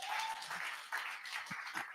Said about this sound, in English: I didn't say you should clap for me now.